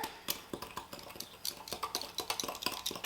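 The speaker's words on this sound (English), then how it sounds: "then you just stir it all together" Sugar and cinnamon stirred together in a bowl for a rhubarb cake topping, with a run of quick close clinks and scrapes from a utensil in an uneven rhythm and no talking.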